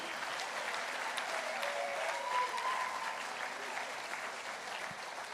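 Gala audience in a banquet setting gives donors a steady round of applause, a dense wash of many hands clapping that holds evenly for about five seconds without easing.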